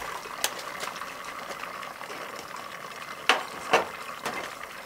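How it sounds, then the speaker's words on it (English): Water fills the pot of a Bunn coffee maker with a steady low splashing and trickling, marked by a few sharper gurgling bursts near the end, with no talking. "Once you know you've put about a pot and a half of water, it'll fill the pot, and then you know the tank is full."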